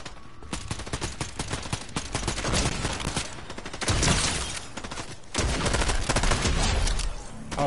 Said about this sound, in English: Somebody with no aim is shooting at me.